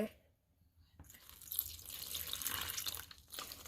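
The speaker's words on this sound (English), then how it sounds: "now I'm gonna put in my 3 cups of water." Three cups of water pour steadily into a mixing bowl for banana bread with a soft, hissing splash that lasts a couple of seconds, quiet and close.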